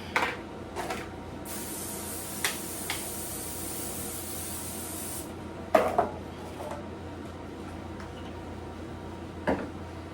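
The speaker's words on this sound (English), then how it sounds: "So spraying my pans here." A long continuous hiss of cooking spray onto pans lasting several seconds, followed by a few sharp clanks of pans being set down nearby.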